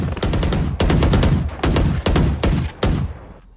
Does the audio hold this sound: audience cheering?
no